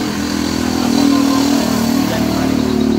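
A motorcycle engine runs at a steady, fairly loud idle at a steam motorbike wash on a hot, sunny day, its low throbbing hum continuous with a slight swell midway.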